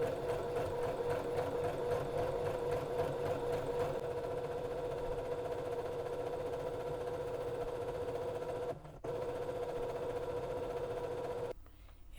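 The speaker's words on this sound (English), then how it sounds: "the basting stitch that I want to use to sew this stitch guide around the edge of my flounce" A sewing machine runs a long basting stitch along the edge of a fabric flounce. Its close, steady mechanical whir carries on evenly, with a brief stop near the end before it runs on more quietly.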